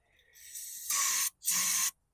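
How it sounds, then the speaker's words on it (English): An aerosol spray can blasts onto a 2021 John Deere S120 lawn tractor in two loud hissing bursts, the first about a third of a second long and the second about half a second, separated by a brief pause, with a faint lead-in hiss before them. "let's spray this"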